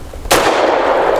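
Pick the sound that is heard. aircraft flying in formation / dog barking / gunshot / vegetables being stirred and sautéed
gunshot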